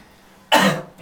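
A single sharp, close cough bursts out after a moment of near silence, loud and short with a quick fading tail.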